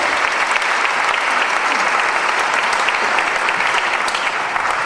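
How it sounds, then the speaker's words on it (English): Loud, dense applause from an audience at a 15th-anniversary celebration for an academy, a thick continuous roar of many clapping hands with no pauses. "let's give him a round of applause"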